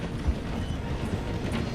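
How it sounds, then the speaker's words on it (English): Train running in the video game Red Dead Redemption 2, a steady rumbling roll of rail wheels and clattering carriages with rhythmic knocks, loud and close, continuous throughout with no talk. "The train is slowing down to go through the station."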